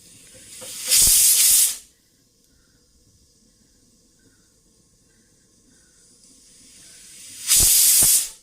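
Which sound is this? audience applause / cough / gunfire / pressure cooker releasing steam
pressure cooker releasing steam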